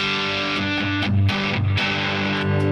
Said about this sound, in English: If you add some distortion when you're on the neck pickup